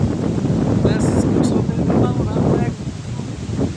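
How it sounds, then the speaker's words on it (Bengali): Strong, stormy wind blows beside a fast-flowing river, buffeting the microphone with a heavy, continuous rumble while a person talks underneath. "দেখি অনেক বাতাস, তুফান আছে অনেক।"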